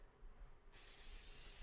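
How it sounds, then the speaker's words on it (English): Pan spray hissing onto a preheating grill, a sudden steady spray that starts partway through and continues to the end against a quiet background. "I'm just going to take a little bit of pan spray"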